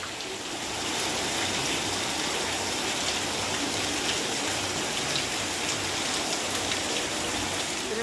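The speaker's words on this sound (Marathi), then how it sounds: "हे बघा भयानक पाऊस आहे भयानक" Heavy monsoon rain pours in the Konkan countryside, a dense, loud and continuous hiss of downpour drumming on surfaces with water gushing, steady from start to finish with no voices.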